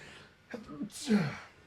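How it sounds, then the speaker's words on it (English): A short inhale and a hitching breath lead into one quick sneeze, close and fairly loud. "Oh, I got to sneeze."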